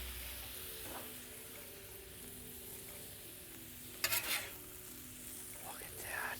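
Steak sizzling on a flat-top griddle for cheesesteaks, a faint steady hiss with light spatula scrapes and a sharper clatter of metal partway through.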